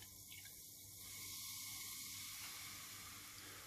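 A close, steady hiss of fizzing bubbles from a carbonated drink rises slightly and holds, with no voices.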